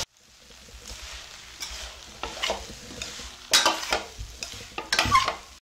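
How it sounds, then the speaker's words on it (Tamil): Vegetable noodles are stir-fried in a pan over low-medium heat, with a constant sizzle under repeated scraping and tossing strokes that grow louder and sharper toward the end. No one speaks. "நல்லா சுத்திலும் நல்லா கிளறி விட்டுக்கலாம்."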